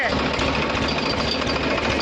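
A tractor driven by a young girl on a farm runs with a steady, close engine drone that holds throughout, with voices talking over it.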